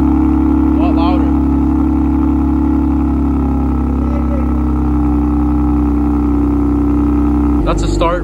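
A BMW M2 CS fitted with a new loud exhaust idles with its valves closed, a deep, steady, booming drone that fills the space up close. Brief voices speak over it, and a sharp sound cuts in at the end.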